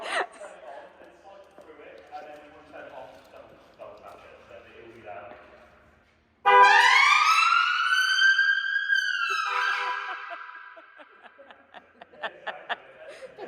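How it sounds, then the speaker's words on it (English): After quiet talking, a loud siren on a farm vehicle visiting the East Anglian Air Ambulance suddenly blares close by, sweeping up and down in pitch for a few seconds before cutting off, then voices resume. "the siren's controlled by the driver on the horn"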